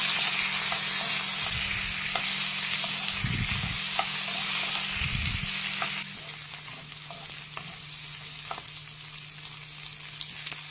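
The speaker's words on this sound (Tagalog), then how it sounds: "Ilagay natin yung bawang. Ilagay natin yung hipon. Sangkutya natin." Shrimp and garlic sizzle and fry steadily in a hot pan, with a few louder stir-scrapes and sputters partway through; the frying noise drops slightly but keeps going to the end, close and alone.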